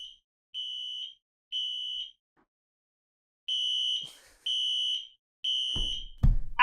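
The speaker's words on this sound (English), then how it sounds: "That was our fire alarm, and they came and said it's not a test." A building fire alarm sounds loud, piercing electronic tones in regular pulses of about half a second with short gaps, followed by a few thumps and bangs nearby.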